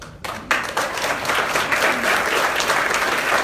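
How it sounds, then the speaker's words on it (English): Audience bursting into applause after a short quiet start, quickly swelling into dense, sustained clapping from a crowd. "Applause."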